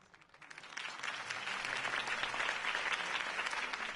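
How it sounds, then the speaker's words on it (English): A crowd in a Batman video game bursts into applause that swells quickly and holds steady, a dense wash of clapping and cheering. "could have heard that applause"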